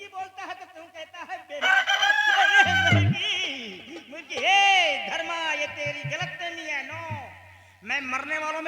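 A voice imitates a chicken's clucking and crowing, loud and close, in a string of warbling calls broken by short pauses, mixed with laughing speech on a Hindi nautanki folk-theatre stage.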